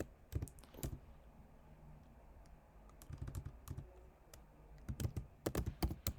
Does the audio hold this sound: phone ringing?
no